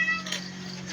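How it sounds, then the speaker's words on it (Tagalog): A cat on a rural farm at a family supper, giving a short faint meow amid low background hum, brief and somewhat distant. "Ang daming pusa"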